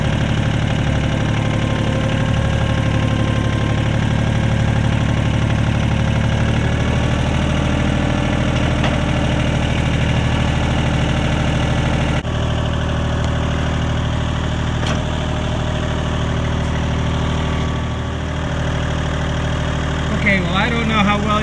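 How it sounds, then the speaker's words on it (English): Tractor engine idling on a farm while hitching a new drawbar, a loud steady low rumble with knocking throughout, with someone talking over it. "You can hear me over the tractor noise."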